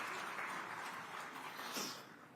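Applause from a conference audience welcoming Rajasthan Chief Minister Bhajanlal at an environment conclave, a steady, moderately faint wash of clapping lasting a couple of seconds with no speech over it.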